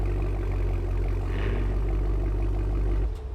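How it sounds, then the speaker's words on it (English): Exhaust of a 2023 Cadillac Escalade V idles after a remote start, a deep, steady rumble recorded up close that holds evenly, then cuts off abruptly near the end. "I can also give you a good sample of the remote start. We can hear that beautiful exhaust."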